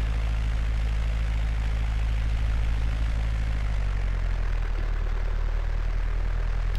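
Propeller aircraft engine in the X-Plane 10 flight simulator during takeoff, droning steadily and loudly with a low pulsing hum that shifts pitch partway through, with no speech over it.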